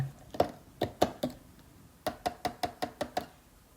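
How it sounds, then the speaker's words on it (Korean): Carrot, chili pepper and onion being chopped in a manual food chopper: two bursts of sharp rhythmic knocks, a few chops and then a faster run of about eight, close and clear with no talking. "당근, 청양고추, 양파를 다지기에 넣고 다져줍니다"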